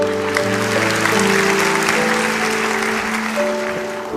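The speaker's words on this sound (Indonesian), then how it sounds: "Berikan tepuk tangan untuk Tuhan Yesus" A church congregation claps together under sustained tonal music, likely keys or organ, that runs throughout; the applause forms a dense, loud wash of hands.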